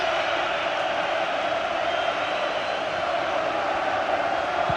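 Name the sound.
Anfield crowd noise at Liverpool v Barcelona match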